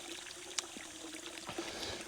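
Well water runs from a hose into a tank, a soft continuous trickle and pour with small splashes and gurgles throughout.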